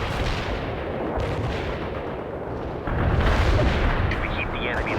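An artillery barrage rumbles in the video game World in Conflict: dense, continuous booming blasts and heavy rumble, growing stronger partway through, with a faint electronic radio-like tone near the end.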